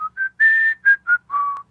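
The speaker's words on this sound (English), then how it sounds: "As you've proven your epic whistling technique" A person whistles a melody along to a song: a clear, loud, close run of sustained and short pitched notes that rise and fall with brief gaps between phrases, alone without talk.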